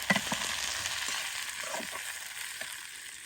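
Onion sizzling and frying in a hot pan in a village home kitchen, a steady close crackle with occasional stirring scrapes, no voices.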